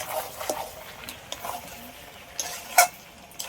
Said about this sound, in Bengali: সব একসাথে আবার একটু ভালো করে কষিয়ে নেব